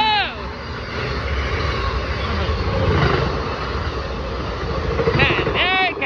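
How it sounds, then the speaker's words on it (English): An Amtrak train rushes through New Carrollton station without stopping, a loud, sustained rumbling roar up close, with a brief voice heard at the start and again near the end. "That's a train coming through!"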